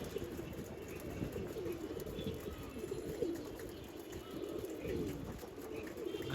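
Tal pigeons, including an old Tal hen, coo softly in a loft. Low, rolling calls repeat through a faint background hum, and nobody speaks.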